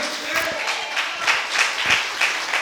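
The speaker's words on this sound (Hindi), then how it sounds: "जोर से ताली बजाइए, जोर से एक साथ आमीन।" A church congregation in Itanagar claps loudly in quick, rhythmic unison, each beat sharp and close, with a voice faintly underneath.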